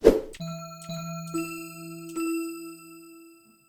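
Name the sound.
bell sounds auditioned for a beat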